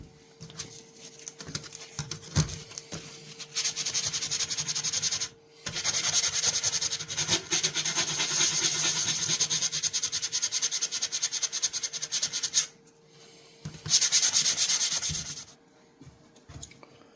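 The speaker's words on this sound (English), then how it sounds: "it's the stainless blade, and I just rubbed it quickly with 1200" A stainless steel knife blade rubbed by hand with 1200 grit sandpaper, close, dry rhythmic scratchy strokes in long continuous bursts separated by brief pauses, with no talking.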